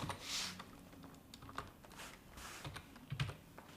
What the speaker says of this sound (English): you click on search, then you just type in